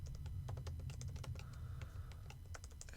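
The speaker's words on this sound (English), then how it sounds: "if I can type" Rapid clicking of keys on a computer keyboard, a quick irregular patter of close, light taps over a low steady hum, with no talk.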